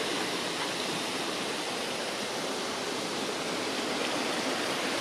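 Low summer flow of a stream running downstream from a bridge in Mohawk State Forest, Connecticut, a steady broadband rushing of water, continuous and fairly close, with no voices.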